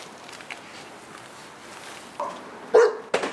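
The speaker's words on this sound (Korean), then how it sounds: "모두가 떠난 마을에서 들리는 개 짖는 소리." A dog barks a few times in an abandoned village near Bukhansan, with short, fairly close barks that come near the end after a quiet stretch of faint background noise.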